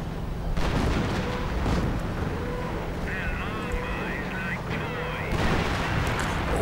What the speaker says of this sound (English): And artillery fire going into town.